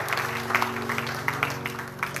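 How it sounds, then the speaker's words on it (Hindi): An audience at a Shrimad Bhagavat katha gathering claps together for the women who decorated the tableau, producing a steady, moderately loud patter of hands over a low sustained musical drone. "सभी को एक जोरदार ताली उनके लिए जिन्होंने श्रृंगार किया"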